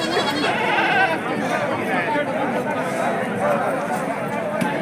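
At a busy livestock market, goats and sheep bleat over and over, many at once, against a steady crowd murmur while people talk close by.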